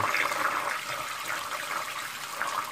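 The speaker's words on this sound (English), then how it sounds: "I'm going to crank up the cold water." Cold tap water rushes steadily through a homebrew beer filter housing, producing a loud, continuous gushing and hissing flow with no speech.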